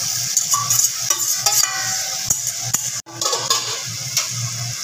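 Mutton pieces hit hot spiced oil for mutton do pyaza, giving a steady close sizzle with scraping stirs and a few metal clinks throughout.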